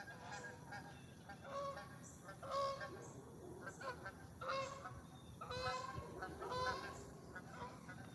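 Geese honk repeatedly near a shallow fishing spot, a noisy series of raspy calls in clusters, fairly faint but clear over soft background sound.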